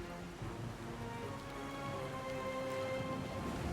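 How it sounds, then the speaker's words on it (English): Heavy storm rain at sea in the video game Pillars of Eternity II, a dense, steady roar of downpour lashing a ship, continuous and loud throughout with no voices. "The storm picks up, lashing your ship, driving you dangerously close to a rocky shore."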